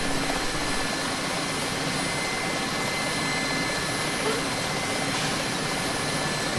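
A Mil Mi-8 MTV helicopter taxis in the DCS flight simulator, its turbine whine and rotor noise forming a steady, loud drone throughout with no talk.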